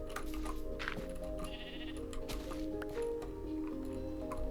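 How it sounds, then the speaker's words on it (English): Sheep bleat repeatedly in a blocky village-building video game, several short nasal calls over a soft ambient background with small clicks and squishy footsteps. "now I just have to lure these sheep in"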